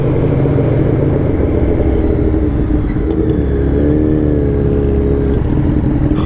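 A sport motorcycle, one of a Yamaha MT-09, Honda CBR1000RR or Yamaha R6, rides along a straight with a loud, steady engine drone close by that swells into a rising rev near the end.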